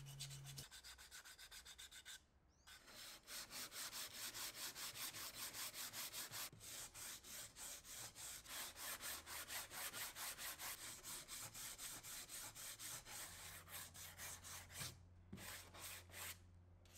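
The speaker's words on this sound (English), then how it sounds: "eventually I ended up sanding everything with my left hand" Wood is sanded by hand for a DIY retractable mic boom arm, with steady rhythmic back-and-forth rubbing strokes, close and continuous, with a brief pause partway through.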